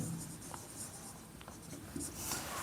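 A pen scratches across paper as a maths formula is written out by hand, a soft, close, continuous scribbling with small strokes and pauses in a quiet room.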